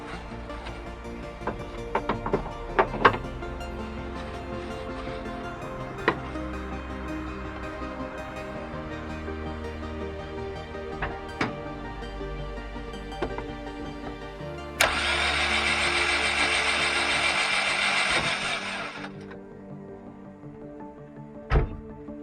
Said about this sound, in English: then just crank it a couple of times just to catch any residue oil in there